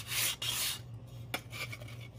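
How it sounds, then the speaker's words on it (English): Sandpaper rasping along the sharp edge of a wooden canvas stretcher, a close, loud continuous scratchy rub in two quick strokes followed by lighter, softer sanding passes; no voices. "Sometimes they're a little sharp, right? So a little bit of sandpaper helps"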